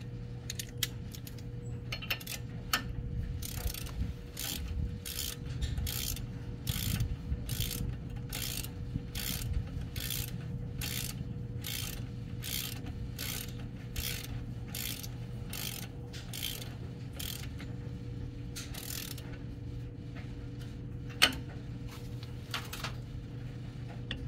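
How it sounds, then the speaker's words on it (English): Torque wrench ratcheting on ball joint bolts during an American Iron Offroad ball joint rebuild, with a quick, even train of close, crisp clicks repeating for most of the stretch over a low background hum. "And then torque it to 40 foot-pounds, same as the lower."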